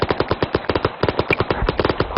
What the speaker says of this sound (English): Sounds like gunfire from OP Brown.